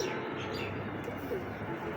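Racing pigeons coo softly over a dense, steady background hum, with a couple of brief, faint calls in a short stretch and no speech.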